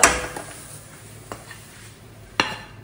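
An oiled plate is taken up and handled in a kitchen while making coconut ginger barfi, giving a few sharp metallic clinks and taps at scattered moments over a quiet background.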